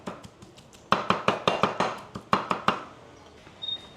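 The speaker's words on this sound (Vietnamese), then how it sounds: "Mình sẽ băm sơ lại." A knife minces diced shrimp on a cutting board for har gow filling, about a dozen crisp, close knocks in a quick uneven rhythm, a sparse few at first, then a dense run before trailing off.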